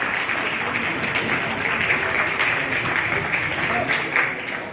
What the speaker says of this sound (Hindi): आप तालियां बजा दीजिए